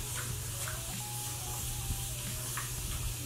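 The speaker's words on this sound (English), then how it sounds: "I love this spray bottle because it just mists the hair so nicely." A spray bottle misting water onto hair during a wig styling routine, a steady soft hiss of fine spray running continuously at close range over a low background hum.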